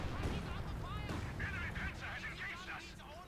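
Battlefield combat in Company of Heroes 2, with dense gunfire and artillery booms rumbling continuously in a loud, busy mix, while a voice talks over much of it.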